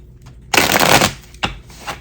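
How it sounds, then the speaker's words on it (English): Tarot cards being shuffled by hand in two quick riffling bursts, the first longer and the second brief, loud and close with nothing else heard. "I'm doing 6 shuffles for the lovers."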